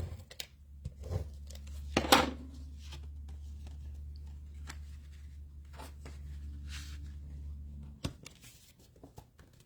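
Scissors snipping card-making material at a craft table, with a couple of crisp cuts followed by quieter rustling and handling over a low steady background hum.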